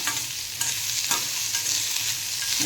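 Onions sizzle steadily in a hot pan while a spatula scrapes and stirs at irregular intervals, close up with no talking.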